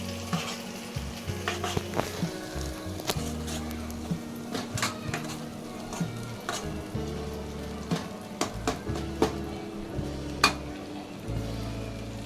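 Masala frying in oil in a pan for cauliflower (gobi) sabzi, the oil starting to separate, gives a steady sizzle with scattered spoon scrapes and clinks throughout, heard up close with no talk.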